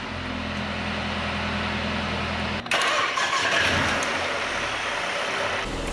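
A 2019 Mercedes A35 AMG, a wrecked car, cranks briefly then fires up with a sudden loud start, settling into a steady close idle with a fairly quiet exhaust.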